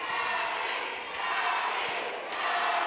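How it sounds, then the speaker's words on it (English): A wrestling crowd at a winter reunion show roars in support of a wrestler, a dense, sustained cheer that swells and dips with no break in the noise. "Listen to this crowd fully behind Robby Collins."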